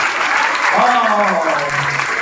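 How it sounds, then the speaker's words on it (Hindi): Students in a classroom lecture clap for themselves, a brief burst of applause with a voice speaking over it. "अपने आप के लिए तालियां बजा जाएगा"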